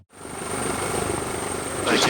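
A helicopter flies with a paramedic crew carrying a 2-year-old child in respiratory distress. The rotor and engine make a steady, loud, continuous drone with a high whine, and it swells slightly near the end.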